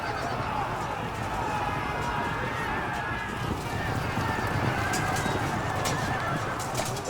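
Light horse cavalry gallops in the video game Field of Glory 2, a continuous mass of hooves with whinnies and goose-like honking calls, moderately loud and steady.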